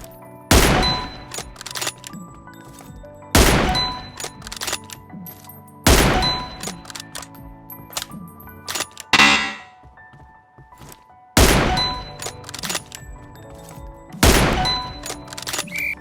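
Sharp, heavy sniper rifle shots in PUBG Mobile reaction training, fired singly every two to three seconds, each a loud crack ringing out with a metallic clang of the target hit, and a short whoosh midway.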